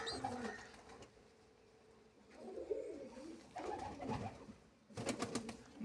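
Soft pigeon cooing rises and falls in a few throaty phrases, close by, with a short flurry of sharp clicks or flapping near the end.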